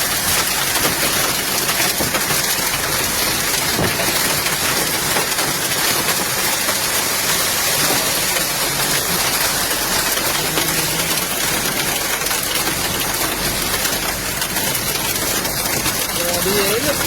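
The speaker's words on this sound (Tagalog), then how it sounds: "Grabe yelo." A hailstorm with heavy rain in Bocaue, Bulacan hammers down in a loud, unbroken roar of pelting ice and downpour for the whole stretch, with voices talking now and then beneath it.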